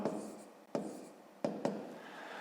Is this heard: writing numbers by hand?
yes